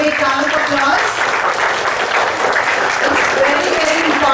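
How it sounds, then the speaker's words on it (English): A school assembly audience for an Easter program by a class 9 group claps in sustained, dense applause that holds steady at full loudness throughout, with a few voices faintly mixed in. "Let's give them a big round of applause."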